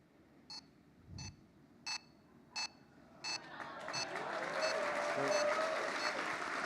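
A hacked electronic conference badge gives five evenly spaced beeps on stage. A crowd then breaks into rising applause that swells and continues under the last beeps, with some voices mixed into the noise.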